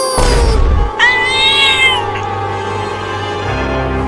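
A cartoon kitten gives a high, drawn-out meow with a bright, wavering pitch, close and loud after a short burst of other sound, then fades into a quiet background hum.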